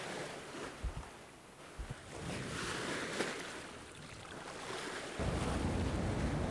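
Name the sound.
52-foot Island Packet sailboat sailing at sea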